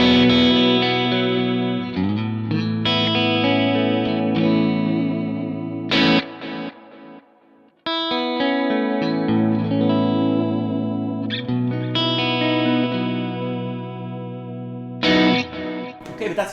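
An electric guitar played through a Kemper rig with modulated delay and chorus rings out in sustained chords and arpeggiated notes, the repeats and shimmer trailing each strum, loud and close with brief pauses between phrases.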